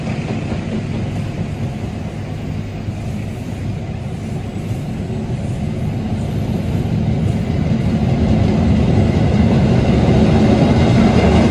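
A passenger train, the Argo Semeru bound for Surabaya Gubeng, rolls through a station in the Jakarta area with a deep, steady rumble and wheel clatter that grows gradually louder and closer over the whole stretch.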